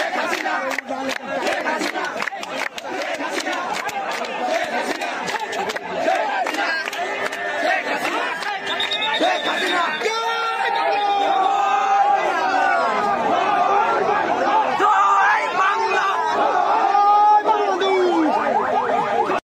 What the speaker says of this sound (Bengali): তার পাশেই আন্দোলনকারীরা স্লোগান দিচ্ছে